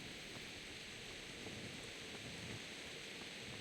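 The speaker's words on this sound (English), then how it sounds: "Rain seems to have gotten quite bad during the night." Heavy rain pours over a medieval castle setting at night in the Kingdom Come: Deliverance game, a steady, dense hiss with no break across the few seconds and no voices.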